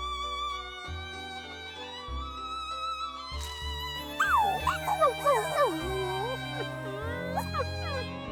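Two cartoon dogs howl together over music, giving a wavering, sliding howl that rises midway and carries on for several seconds.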